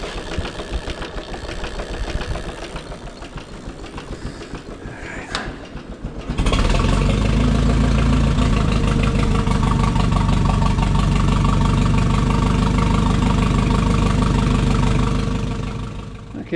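A generator engine runs after a cold start, starting as a quieter rough background then jumping into a loud, steady close-up drone that holds for about ten seconds before easing slightly.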